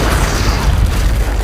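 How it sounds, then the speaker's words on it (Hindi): A big explosion used to blow up a safe erupts as a loud, sustained rumbling boom with dense low-end roar that holds steady throughout, close and overwhelming, with no voices. "वो धमाका टैंक वाले से बहुत बड़ा होगा।"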